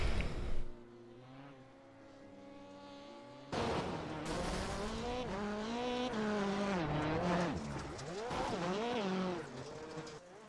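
Race cars roar around a short oval track during a racing broadcast, engines rising and falling as they pass nearby, loud and continuous after a brief quieter lull, with no talk over them.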